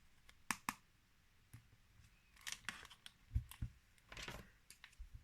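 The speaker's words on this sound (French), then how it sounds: "Des ciseaux crantés." Scattered sharp clicks and snips of pinking shears being handled, irregular and close, with quiet gaps between.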